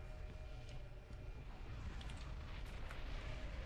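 Explosions in the first-person shooter game F.E.A.R., a dense continuous rumble of blasts and debris with a low roar and scattered crackles, fairly quiet overall.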